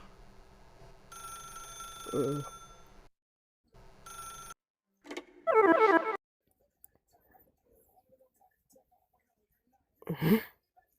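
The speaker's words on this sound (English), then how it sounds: "If you can truly place your faith in another, then pick up the phone." A telephone rings in The Stanley Parable video game, two electronic bell bursts separated by a pause, followed by brief clatter and sparse quiet sounds, with a later short sound near the end.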